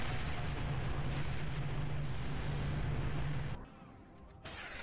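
Scarab Gun firing in Halo 3 with Ruby's Rebalanced Mod, a sustained loud roaring blast with a steady low hum that runs for over three seconds, then cuts off abruptly into quieter game ambience.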